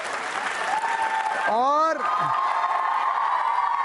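An audience at a Holi-themed university quiz show applauds loudly. A steady wash of clapping runs throughout, broken midway by a rising, sweeping whoop or cheer from the crowd.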